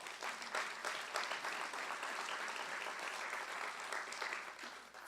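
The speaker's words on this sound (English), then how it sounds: "that applause is for her" An audience at a mayor's State of the City address in Salisbury, Maryland, applauds the mayor's wife, a dense, steady wash of many hands clapping at moderate distance that holds evenly throughout.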